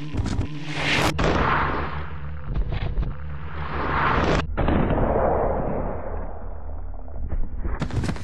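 Colt Python Magnum revolver fired in Resident Evil Code: Veronica X, three loud, sharply spaced booming shots, each with a long echoing decay, plus a fourth starting at the end.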